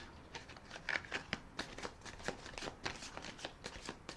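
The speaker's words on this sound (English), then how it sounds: "let's do a shuffle, a rifle again" Tarot cards being riffle shuffled close up, a series of quick papery bursts and snaps repeating several times at a quiet level.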